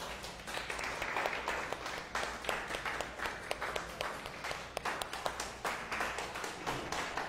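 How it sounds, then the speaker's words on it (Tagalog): At a church service, a congregation claps in a fairly soft, sparse applause, with individual claps standing out as the clapping loosens and thins toward the end. "Palakpakan natin si Jesus."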